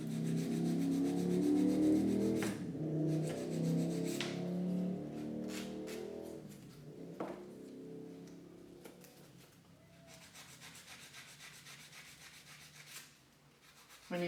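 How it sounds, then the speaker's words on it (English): A nail file rubbing on dried acrylic dip nail extensions, rasping in close, steady strokes that are louder at first and then turn into lighter, scattered scrapes with a few sharp taps. "I can now actually file it, so I can just go up the sides as you would normally do."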